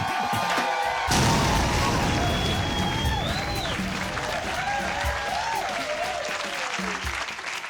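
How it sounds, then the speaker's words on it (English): After a brief quieter moment, a stand-up comedy crowd in Glasgow bursts into loud clapping and cheering, with sharp whistles rising over the sustained applause. "Please start clapping and cheering."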